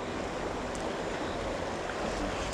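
Choppy water on the River Vah churns in a steady, dense broadband wash that holds level throughout, with no voices over it.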